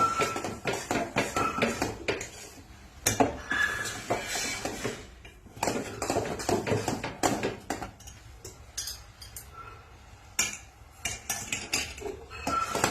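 Repeated scraping and clinking of a spoon against a pot while thick rice flour mudde is stirred until it firms up, a steady irregular rhythm of close metallic knocks with no talking.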